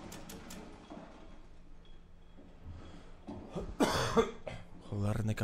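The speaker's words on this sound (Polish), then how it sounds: "kaszel, no." During a Rainbow Six Siege team deathmatch, a person coughs a few times close to the microphone, with game sounds and quiet talk around it.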